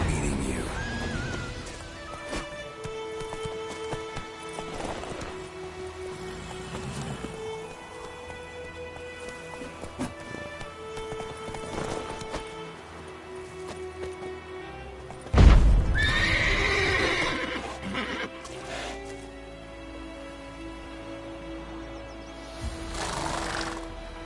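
In The Witcher 3, a horse neighs loudly and its hooves clip-clop along as it gallops, mixed with game music and ambient effects, with a sharp burst midway.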